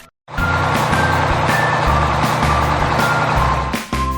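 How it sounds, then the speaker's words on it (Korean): A toy wood truck plays a rapid series of high reversing beeps over a loud, pulsing engine-like drone, starting abruptly after a brief silence and cutting off near the end, with no talking. "Wood truck. 목재 운반 트럭."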